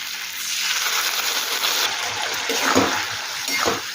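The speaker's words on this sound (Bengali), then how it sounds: "এখন দেবো আগে থেকে বানিয়ে রাখা সব রকম সসের মিশ্রণ" A premixed blend of assorted sauces is poured into chilli chicken gravy, making a continuous wet splashing rush with a few louder sloshes near the end.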